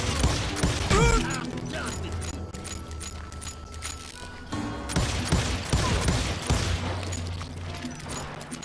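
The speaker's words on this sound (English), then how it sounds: "I heard the shots and I knew I had to move fast." Gunfire in the Western shooter Call of Juarez: Gunslinger, a rapid fusillade of close shots and mechanical clatter running through a dense, loud game soundscape with booming impacts and a brief whistling effect early on.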